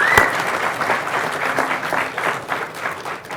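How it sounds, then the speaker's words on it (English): An audience at a food systems collaboration event bursts into hearty applause, dense sustained clapping filling the hall from start to finish. "Let's give them a big"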